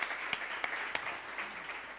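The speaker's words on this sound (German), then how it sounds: "Ich finde, das ist auf jeden Fall ein Applaus wert." Audience applause carries on steadily for two seconds, fairly faint and diffuse, with a few sharper claps standing out near the start.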